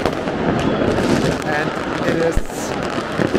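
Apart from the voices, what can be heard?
New Year's fireworks exploding in Munich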